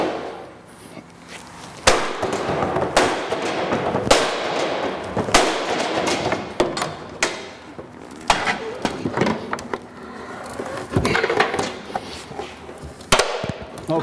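A firefighter drives a forcible entry tool into a door on a training simulator, about three or four inches in, producing a series of loud, sharp metallic bangs at irregular intervals over a steady background clatter.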